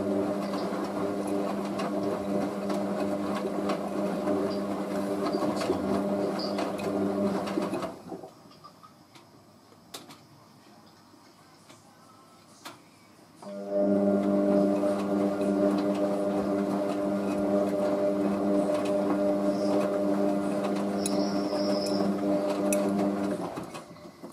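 Hotpoint WM63 Aquarius washing machine in its intermediate spin toward 700 RPM, a loud steady motor hum and drum whine that drops away for several seconds, then ramps back up and holds steady.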